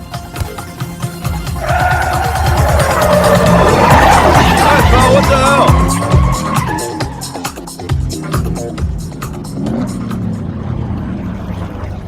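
In a Hindi comedy film scene, a car speeds hard with loud, prolonged tire squeals and skidding, engine noise rising and then fading, while voices and background babble run underneath.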